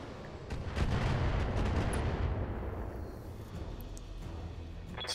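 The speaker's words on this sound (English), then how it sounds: "No wonder it's got so many missiles." A heavy barrage of missile fire from an Orion mech in the BattleTech video game: a loud, dense burst of rapid blasts that rolls on for a few seconds, then tails off into a lingering rumble.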